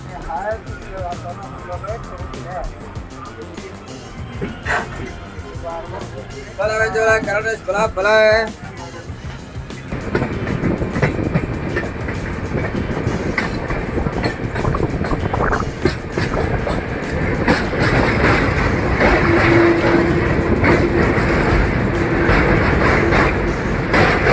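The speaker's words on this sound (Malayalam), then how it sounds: "ട്രെയിനിന് 2 എഞ്ചിനാണ് വലിച്ചുകൊണ്ട് പോകുന്നത്" A train hauled by two engines rolls along the Mangalore to Sakleshpur line through the Western Ghats, a loud steady rumble that swells over time, with talk heard early on.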